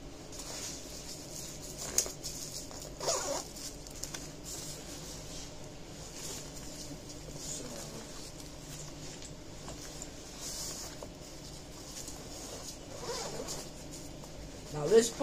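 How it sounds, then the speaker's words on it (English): A zipper on a compartment of a Nike schoolbag is pulled open and shut in short, faint rasps against a quiet room, with soft handling noises around it. "Another part where you can put pencils and stuff in,"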